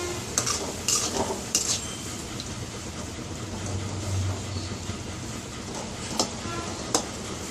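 Onion and green chilli gongura chutney, village style, being stirred and mashed in a pan, with soft scraping and light clinks of a utensil against the metal throughout, no voices.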